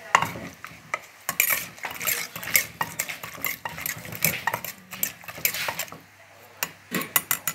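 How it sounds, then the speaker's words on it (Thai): Som tam green papaya salad being tossed with seasoning in a mortar, with repeated irregular knocks, clacks and wet scraping of the utensils mixing the ingredients, close and fairly loud. "แล้วก็ คลุกคลุกเขาให้เข้ากัน"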